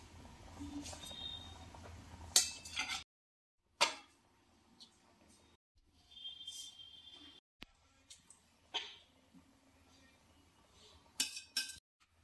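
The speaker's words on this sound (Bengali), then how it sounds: "নাড়িয়ে দিতে হচ্ছে ইলিশ মাছগুলো" Hilsa fish for pulao is stirred in a pot with rice, giving faint, sparse metallic clinks and scrapes of a utensil against the pot, separated by near-silent gaps, with no talking.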